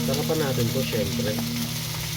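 Meat fries in cooking oil with a close, steady sizzle, while a faint voice murmurs briefly in the background early on.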